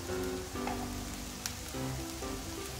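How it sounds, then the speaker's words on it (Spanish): Onion and garlic fry in a splash of olive oil in a pan over the heat, a continuous soft sizzle and crackle like light rain, steady throughout with no talking. "Mientras tanto hemos puesto una sartén al fuego con un chorrito de aceite de oliva y ahora vamos a echar la cebolla"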